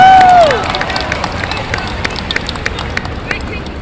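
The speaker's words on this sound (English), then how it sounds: "can we all just give a round of applause for Shannon?" Crowd at an anime convention panel in Las Vegas claps and cheers, a steady wash of applause with a brief shout at the start and babble mixed in.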